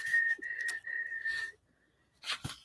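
A person whistles a steady, slightly wavering high note in three short phrases, then pauses before a brief breathy attempt, quiet and close.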